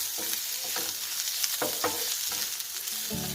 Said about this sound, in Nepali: मैले यो हल्कासँगले लसुन अदुवाको पेस्ट पनि फ्राई गर्दैछु